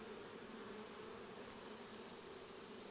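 Honeybees hum on a brood frame during a hive inspection, a steady, faint, continuous buzz of many insects with no break.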